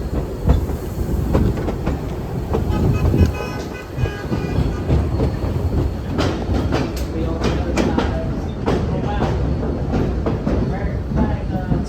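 Steam special excursion train rolling along the track on a summer heritage ride, with continuous rumbling wheel noise and repeated clicking rail joints and clanks close by, voices talking intermittently over the running sound.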